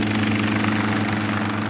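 A helicopter flies over farmland, its rotor producing a steady, loud, continuous drone with a rhythmic low thrum throughout, with no voices.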